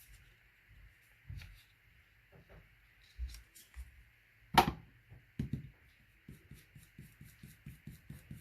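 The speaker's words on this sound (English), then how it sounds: "Just shut my door." A door pushed shut in a home crafting room lands as one sharp, fairly loud knock midway, set among quiet paper rustles, light taps and soft handling noises before and after.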